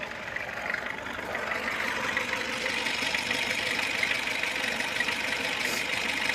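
A VAZ 2101 car engine idling on gas after reducer replacement, a steady, low, even running hum that holds constant for several seconds with no talking.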